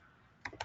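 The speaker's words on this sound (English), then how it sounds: "I hope you hear me typing because I'm writing this down." Short burst of typing on a computer keyboard during a video call, a few quick close keystrokes clattering after a near-silent pause.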